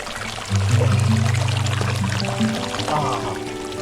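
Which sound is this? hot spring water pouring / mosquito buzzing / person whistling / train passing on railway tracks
hot spring water pouring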